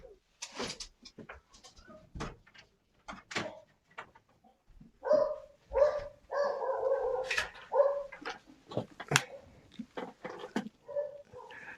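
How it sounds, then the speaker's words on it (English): A dog barks at close range indoors, with scattered single barks early on and a denser run of loud barks in the middle, separated by short pauses. "He's barking at me."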